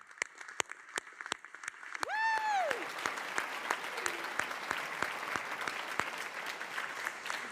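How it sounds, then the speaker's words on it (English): Graduates at a college commencement ceremony break into a sustained round of applause, many hands clapping steadily with a whoop and a brief whistle rising near the start, while a voice on the microphone talks over it. "Give yourselves a round of applause."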